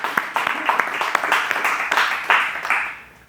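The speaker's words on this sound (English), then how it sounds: "So we can give everybody an applause just for that." Applause from an audience at a talk on recognizing one's unique calling, a dense crackle of many hands clapping steadily for about three seconds before starting to fade.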